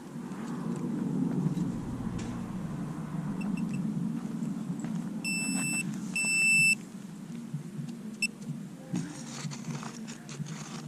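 A handheld pinpointer, used alongside a Minelab Equinox 800 metal detector, sounds two short, bright electronic beeps over a buried target outdoors, with faint rustling around them.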